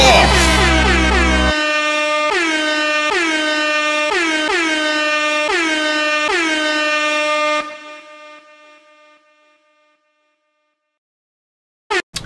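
A loud air horn blares in repeated rhythmic blasts over a classical Bach piece, the honks pulsing for several seconds before fading out, with a short burst near the end.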